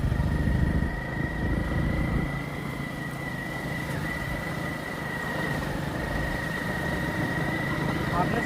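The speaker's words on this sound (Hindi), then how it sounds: "ये जा रहे हैं हम बाइक पे" A motorcycle rides through dense forest, its engine holding a steady mid-pitched drone with a faint whine, close and continuous, while people talk over it.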